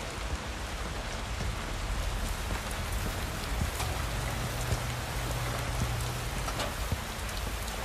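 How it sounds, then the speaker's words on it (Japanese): Steady rain falls in the video game Watch Dogs: Legion, a dense, even hiss of drops that continues unbroken at moderate loudness, with no voices over it. "雨か。"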